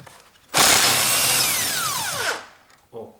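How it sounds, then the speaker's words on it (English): An impact driver working a 12 mm bolt on a car steering shaft gives one loud, close, sustained whirring burst of about two seconds, followed by a brief second blip. "when I use a little bit longer bar and impact driver, I can open this bolt easily in that way"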